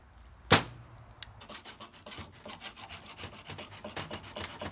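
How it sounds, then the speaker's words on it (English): Hacksaw cutting slowly through a metal suspension bushing sleeve, starting after a sharp clank and settling into a steady back-and-forth rasp of quick, evenly spaced strokes, close and fairly quiet. "I was taking my time with the hacksaw, cutting the sleeve, sneaking up on it"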